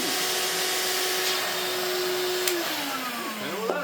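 A Hoover Portapower S1126 vacuum cleaner runs loud and close with a steady whine, its pitch sliding lower partway through as airflow through the hose changes.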